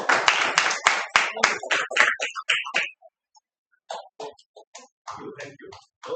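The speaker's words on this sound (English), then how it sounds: "Big round of applause for them." Small audience at a Toastmasters club meeting clapping, a burst of close hand claps that thins out and stops after about three seconds, followed by scattered quiet sounds and a few isolated claps.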